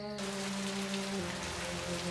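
Light rain drizzles steadily in the Wii game Agatha Christie: And Then There Were None, a soft continuous patter under sustained low musical tones that shift partway through.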